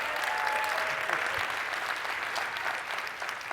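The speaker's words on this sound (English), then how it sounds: "let's give him a round of applause" An event audience gives sustained, even applause at close range, a dense patter of many hands that tapers slightly toward the end.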